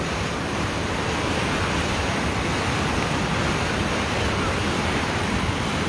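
Rushing whitewater at the Montgomery Whitewater Center, a loud, constant broadband roar of churning river rapids heard close up with no letup.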